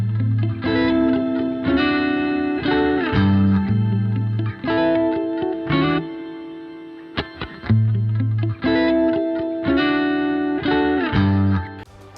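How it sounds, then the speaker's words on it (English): Synthesized tones play in stepping chord patterns, drenched in lush reverb from a reverb plugin that lets each note bloom and trail off, with brief pauses between phrases. "Adjusting the note width gives you a lot more control over how your reverb sounds."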